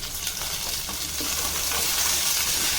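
Garlic, green chillies and curry leaves sauté in a hot pan for pearl millet khichdi, a loud continuous sizzle with stirring scrapes throughout, no voices.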